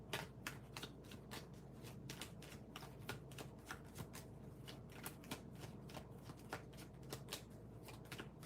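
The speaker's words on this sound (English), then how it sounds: "Let me just shuffle this deck." A deck of tarot cards is shuffled in a fast, steady rhythm of crisp flicks and snaps, close and faint, with no talking.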